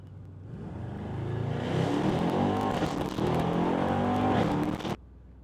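A Mercedes E63 AMG in race mode with traction control off accelerates hard, its engine note rising loud and close for several seconds before cutting off abruptly.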